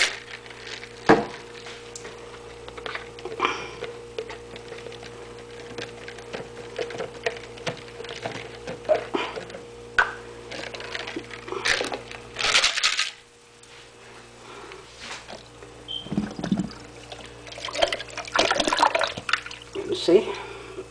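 A small drink bottle being rinsed of milk with water, giving intermittent splashing, sloshing and hollow plastic knocks that rise and fall in bursts, with a voice talking over parts of it.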